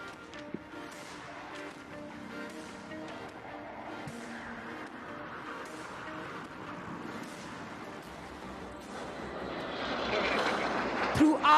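Pakistan Air Force Sherdil fighter jet at a Pakistan Day Parade air show, diving at over 800 km/h into a 6G pullout; a steady distant jet roar builds and grows louder toward the end, with faint crowd noise beneath.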